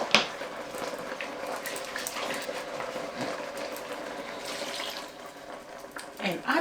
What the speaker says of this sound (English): We don't want to miss any spice here, so I am washing this with water.